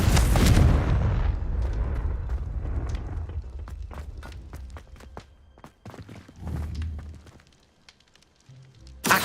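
A Confringo fire spell from Hogwarts Legacy bursts with a loud, booming blast at the start that rumbles and decays, followed by scattered footsteps and smaller impacts.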